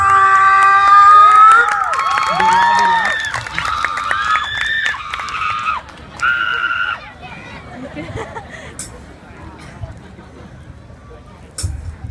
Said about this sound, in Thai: ขอเสียงปรบมือเป็นกำลังใจให้กับพวกเราหน่อยได้ไหมคะ